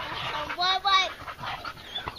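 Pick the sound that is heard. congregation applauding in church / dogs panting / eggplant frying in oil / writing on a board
dogs panting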